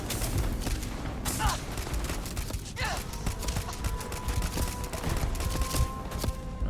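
Gunfire in the Starfield video game, a steady dense crackle of shots under continuous background noise, with voices talking over it.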